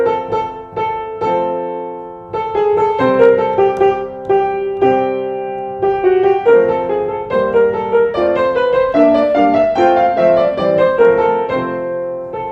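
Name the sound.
first theme of first movement of Beethoven's Spring Sonata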